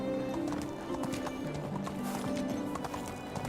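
A donkey walks in the medieval village game Medieval Dynasty, its hooves giving a steady, quiet clip-clop rhythm over soft, continuous tonal background sounds.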